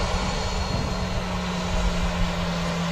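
A Jet2 Boeing 737 at Manchester Airport, heard as a broad, steady engine roar with a low tonal hum, loud and continuous throughout, with no voices over it.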